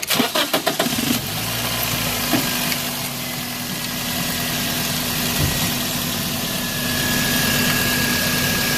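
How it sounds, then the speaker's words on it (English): A car engine cranks with a few sharp bursts, then catches and settles into a steady idle hum with a faint high whine, close by. "I'm gonna go turn on the engine"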